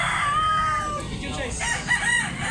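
Roosters crow at a busy Cebu market where fighting cocks are sold, two long drawn-out calls rising over a dense crowd murmur with a few clucks mixed in.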